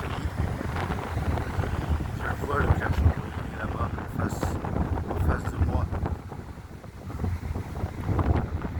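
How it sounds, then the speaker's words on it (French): Strong wind buffets the microphone outdoors with a continuous low rumble and gusty roar, while someone speaks French over it throughout. "Il fait beaucoup de vent, hein."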